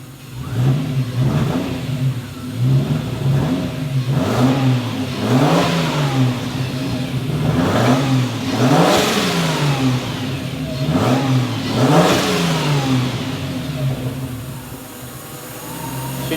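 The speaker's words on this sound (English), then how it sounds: "Should you not be revving your cold engine?" A cold, untuned V12 twin-turbo engine in a Toyota BJ40 Land Cruiser revs repeatedly in rising and falling surges, loud and close, over a steady low rumble, with no talking.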